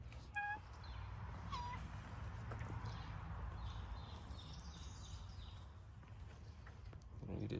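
A shop cat gives a few short meows among faint background noises in a garage workshop. Someone speaks softly nearby.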